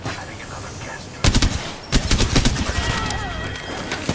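Bursts of rapid automatic gunfire in a multiplayer shooter game, starting after a quiet stretch and coming in a loud sharp volley and then another series of shots close by, over low background ambience.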